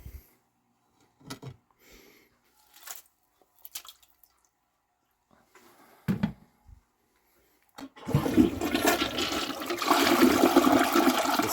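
A household toilet flushes nearby. A few scattered drips and small clunks come first, then a loud, steady rush of water swirls and drains for the last few seconds.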